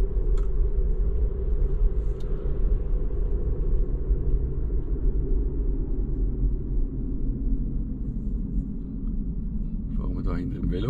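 A Tesla car driving on a road gives a low steady rumble of road and tire noise throughout, close and continuous, with a voice speaking over it near the end.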